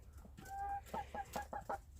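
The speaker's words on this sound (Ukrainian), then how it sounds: "Тут мешкають курочки." Several large Spanish and Goloshey (naked-neck) hens clucking close by, short repeated clucks in a quick irregular series over a low steady background hum.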